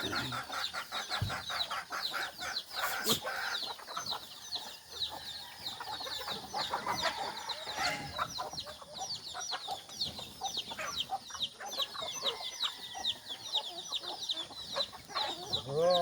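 Chickens cluck and chatter continuously in a lively, busy barnyard, with bird calls layered over a steady outdoor background.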